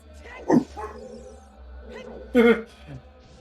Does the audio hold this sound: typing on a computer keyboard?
no